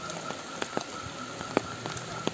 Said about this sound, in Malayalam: നല്ല ഗംഭീരം മഴയാണ്, നല്ല മഴ